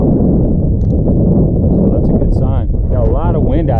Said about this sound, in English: Got a lot of wind out here today. It's super windy.